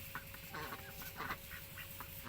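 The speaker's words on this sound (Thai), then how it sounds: "เป็ดหัวจุด" Crested ducks quack and honk in short repeated bursts, several birds calling close by over a steady low background hum.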